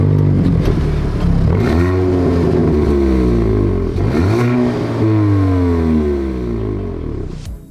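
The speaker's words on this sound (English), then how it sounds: "Let's go for a drive." A 2019 Hyundai i30N Fastback's 2-litre turbocharged four-cylinder engine revs hard and climbs through several gears, pitch rising and dropping with each shift, loud and close with no talking.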